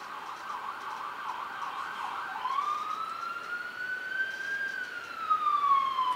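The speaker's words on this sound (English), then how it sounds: "the siren's going by" A siren wails with a rising and falling tone, growing louder as the vehicle approaches and passes, with no talking.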